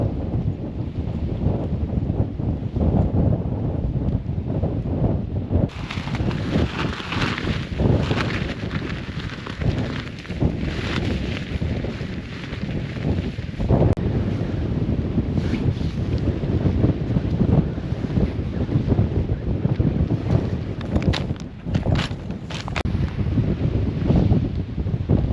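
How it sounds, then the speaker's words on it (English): Strong, steady wind on a mountain campsite buffets the microphone, a constant low roar with gusts surging and easing throughout; no voices. "it's a nice pitch, it's a tad windy"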